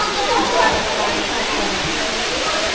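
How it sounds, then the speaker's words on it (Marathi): Water falls all around at a hilltop temple, a loud, steady broadband rush that fills the scene without a break. "चारी बाजूनी पाणी पडत आहे"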